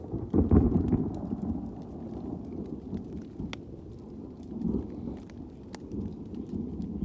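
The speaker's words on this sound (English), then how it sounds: "Thunder's getting close." Thunder rumbles low and heavy during a storm in the Green Swamp West section of the Florida Trail. A strong roll near the start fades into a steady, rain-like wash, and a softer swell follows later. No one speaks.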